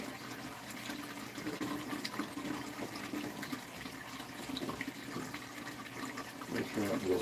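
Water from a hose pouring into a barrel, a soft continuous splashing rush that holds steady throughout, with a faint voice in the background.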